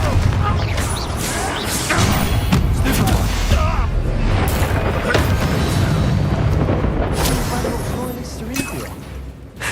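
Confringo blasting spells in the video game Hogwarts Legacy, a run of loud booming explosions and impact bursts layered with combat effects, with a player voice heard over the chaos.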